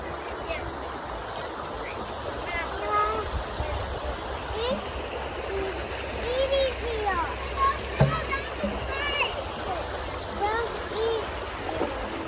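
A creek flows loudly outdoors, a dense steady rush and babble of water close by, with birds chirping over the top and no clear talking.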